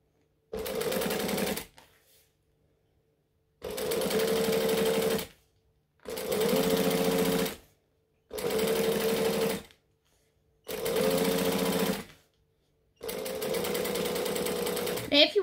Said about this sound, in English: So again, we're going to start with the open side to stitch down the edge. We're going to backstitch to lock it in.